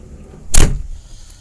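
A car door on a 1988 Honda Civic LX 1.3 with manual transmission, a single loud thump as it shuts while someone gets into the cabin, close and alone.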